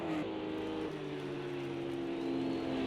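GT3 race car engines in Project CARS 2 at Laguna Seca, including a Lamborghini and a Honda NSX, droning steadily and revving up through gear changes, close and continuous at moderate volume.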